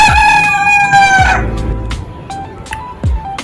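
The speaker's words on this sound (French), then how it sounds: "Et les poules" Outdoors, a rooster crows loudly nearby, then hens cluck in short scattered bursts.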